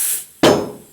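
A tire bead pops onto its rim on a Coats 20-20 tire machine in a single sharp, loud, close bang that decays quickly, after a fading hiss of air.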